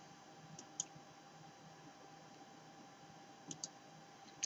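A computer mouse clicking at a PC: a few isolated, faint, crisp clicks spaced a few seconds apart against a low, quiet background hiss, with no talking.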